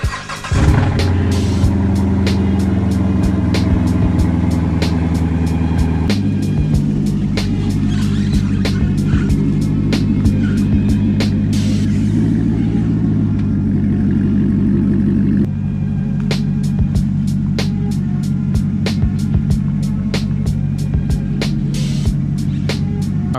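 A Chevrolet C6 ZR1 Corvette is pulled out, its engine running steadily and loud throughout with a deep rumbling idle and mild shifts in pitch as it moves, with no talking.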